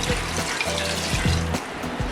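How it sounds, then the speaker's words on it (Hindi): Water being poured into a pot of goat trotters for paya, a steady close rushing splash that continues throughout with faint bubbling underneath. "ये हम इसमें पानी शामिल कर लेते हैं।"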